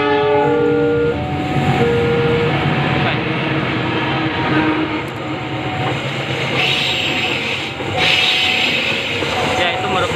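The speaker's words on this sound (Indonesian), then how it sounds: "Nampaknya itu adalah kereta api Argo Bromo Anggrek dari stasiun Surabaya Pasar Turi, ingin menuju ke stasiun akhir Gambir." The Argo Bromo Anggrek luxury-class train, running from Surabaya Pasar Turi toward Gambir, rumbles past loudly and close, its horn sounding at the start over a continuous roar of wheels and carriages.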